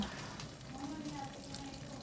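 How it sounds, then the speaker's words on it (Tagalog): Water runs steadily into a pot, a continuous splashing rush heard close up with a faint voice in the background. "lagyan natin ng tubig."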